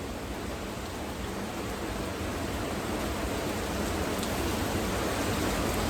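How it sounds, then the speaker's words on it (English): Heavy rain pours down steadily in a public park in a dense, constant hiss, with no other sounds standing out. "It's pouring, y'all. Absolutely pouring."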